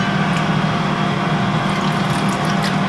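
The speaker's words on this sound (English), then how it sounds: "And then, of course, 2 tablespoons of water." Water poured into cooking ingredients in a home kitchen, a steady close trickling splash lasting a few seconds with no talk.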